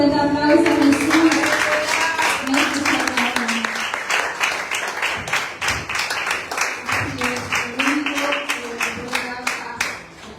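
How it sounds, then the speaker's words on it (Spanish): Applause from a church congregation praising Jesus, a dense sustained wash of many hands clapping that stays loud throughout, with musical tones and voices underneath. "Dale ese fuerte aplauso a Jesús."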